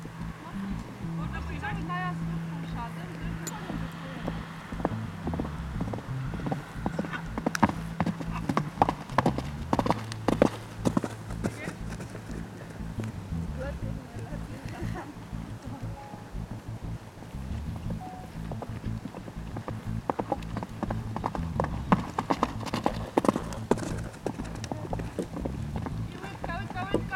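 Horse hooves clip-clop steadily and rhythmically on the ground during a riding lesson at an equestrian centre, continuous throughout, with an instructor calling out over the hoofbeats and some wind noise.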